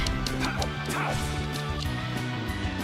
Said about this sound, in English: My dog is here too.